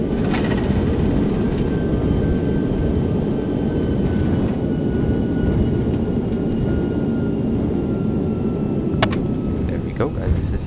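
An Airbus A319 rolls out after landing in a flight simulator, a steady loud rumble of engines and runway noise throughout, with a voice talking over it and a few faint clicks.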